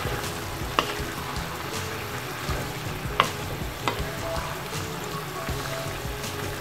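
Beef masala with lemon juice and a little sugar being stirred in a frying pan, a steady sizzle broken by a few sharp scrapes of the spoon against the pan.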